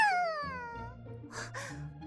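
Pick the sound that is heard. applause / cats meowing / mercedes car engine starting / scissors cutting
cats meowing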